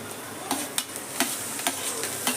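Long-cut carrot strips hit hot oil with fried onions and sizzle loudly and steadily up close, while a spatula stirs them with light, regular clacks.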